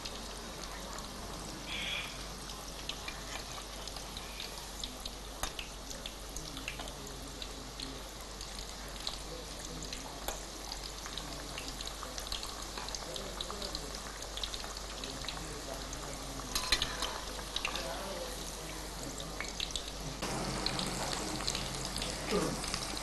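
Chicken pieces frying in hot oil until golden brown, a steady crackling sizzle with scattered pops that carries on evenly for the whole stretch, moderately quiet and close.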